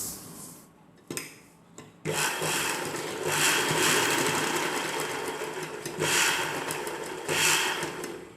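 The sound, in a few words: sewing machine stitching umbrella dress neck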